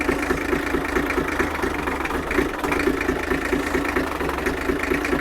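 An abandoned Dodge truck, left for 28 years in a French wood with its bonnet fallen off, runs steadily at idle with a rough, loud, continuous drone and faint knocking.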